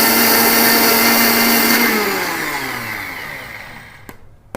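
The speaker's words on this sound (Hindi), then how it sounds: "तो एक बार पुनः इसको आप ग्राइंड करें।" A kitchen mixer grinder runs loud and steady, whirring for a couple of seconds before the motor winds down and fades, ending with a faint click as it stops.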